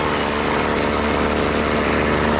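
A weed eater engine runs at a slightly high idle with its trimmer line still spinning, a loud, close, continuous buzzing drone heard alone.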